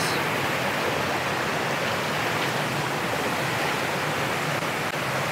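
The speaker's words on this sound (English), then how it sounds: "See the waterfall behind me there." A waterfall pours into a rocky cauldron in the Cairngorms, a loud, steady, broadband roar and hiss that fills the whole clip without a break.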